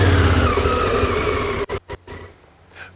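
An adventure motorcycle's engine runs loud and close with a steady mid-pitched drone while the rider walks the bike through an off-road turn, then cuts into a few short choppy bursts before fading out.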